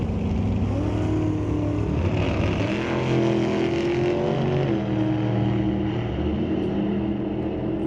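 Drag race cars, including a tangerine 1991 Mustang, at an NHRA Northwest National Open Series event at Mission Raceway roar at the start line, a loud, continuous, dense engine drone that holds steady throughout.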